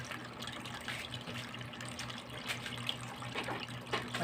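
Water running steadily during a garden pond water change, a continuous broadband wash with a faint low hum underneath, no voices.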